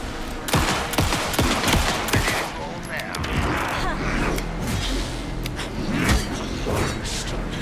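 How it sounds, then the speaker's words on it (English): Gunfire in the video game Alan Wake 2 comes as loud bursts of shots and rapid fire, mixed with mechanical clanks and game effects, with voices speaking at times. "Anderson, pin him down with gunfire for me to get the light on him."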